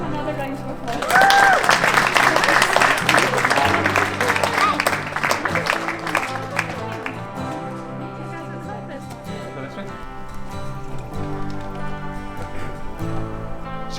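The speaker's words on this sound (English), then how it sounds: "Give them another round of applause." Wedding guests at Rowallan Castle applauding, a loud burst of clapping and some cheering that swells then gradually fades to scattered claps, with voices mixed in.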